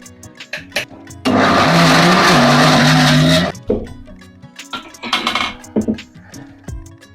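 A kitchen mixer grinder whirs loudly for about two seconds grinding roasted peanuts into thick peanut butter, then stops, followed by clattering and shorter handling noises.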